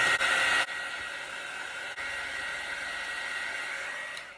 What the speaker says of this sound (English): we'll just hit it with the heat embossing tool.